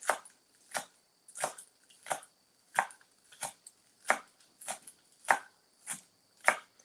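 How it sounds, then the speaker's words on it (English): Scallions are chopped on a board with a knife in about a dozen evenly spaced, crisp, close knocks, each a sharp tap with no talking. "so 4 scallions chopped."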